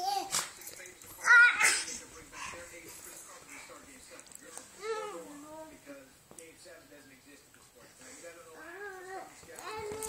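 Puppies give high, thin whimpers and squeaks in scattered bursts, close by, mixed with a person's voice and a child's babble.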